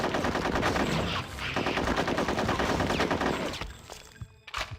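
Rapid gunfire in an ambush in the video game Conker's Bad Fur Day, loud dense bursts of shots and automatic fire overlapping almost continuously, thinning slightly near the end.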